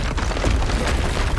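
A Bombarda spell explodes in the Hogwarts Legacy video game, a loud, rumbling blast that fills the moment with heavy low-end roar.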